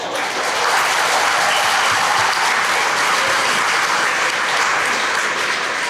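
Sustained, dense applause from a lecture audience fills the whole stretch, steady and loud with no talking over it.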